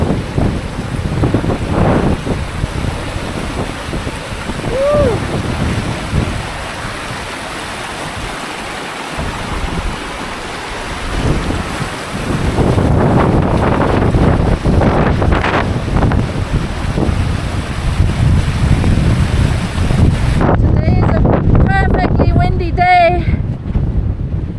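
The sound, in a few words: wind-blown spray and water at Cascada La Invertida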